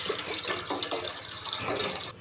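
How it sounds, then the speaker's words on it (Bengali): Water pours into a cooking pot (dekchi) set on a gas stove, a steady close splashing and gurgling stream that runs for about two seconds and then stops abruptly. "ডেকচিটা বসিয়ে দিয়ে কিছুটা আমি জল দিয়ে দিচ্ছি।"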